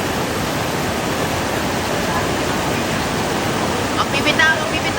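The strong current of the Zamba River in Zambales, a dense, steady broadband rush of fast-moving water, loud and close throughout, with a few faint higher sounds near the end.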